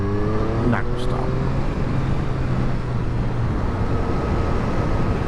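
A 2022 Triumph Street Triple RS being ridden, its engine droning steadily under constant wind rush, with a brief rising engine tone early on.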